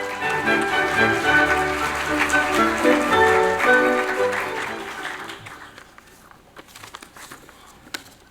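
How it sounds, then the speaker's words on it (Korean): Conference audience applauding to welcome a speaker, a loud, dense wash of clapping with music underneath that fades out over several seconds, leaving scattered faint claps. "박용열 국장님을 큰 박수로 맞아주시기 바랍니다."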